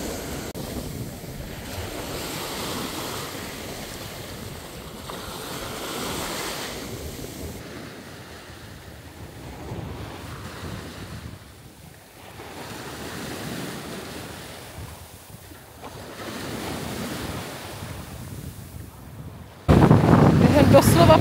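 Icy sea waves crash and wash up a beach in repeated surging swells, close and loud, with heavy wind buffeting the microphone throughout.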